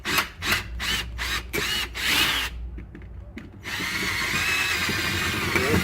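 A power drill spins against a rivet on an aluminum truck canopy for a Toyota Tacoma, first in short repeated bursts, then in a steady whirring grind near the end, close and fairly loud, with no talking.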